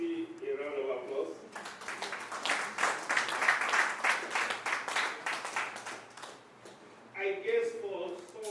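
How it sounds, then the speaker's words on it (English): Conference audience applause breaks out after a voice speaks, rhythmic clapping swelling in the middle at moderate level, then fading as talking resumes near the end. "So please let's give Professor Susi a round of applause"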